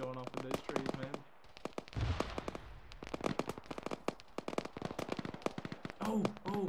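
Grenades burst one after another among trees during an ARMA 3 firefight, with rapid cracks and booms at varying distances while players talk over radio throughout.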